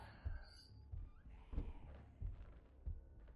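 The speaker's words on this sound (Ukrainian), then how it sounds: "Я чую, як він гупає, ви чуєте?" Low, dull thumps of a monster's footsteps in the video game Joyville 2, repeating at an uneven pace, muffled and fairly quiet over a steady background hum.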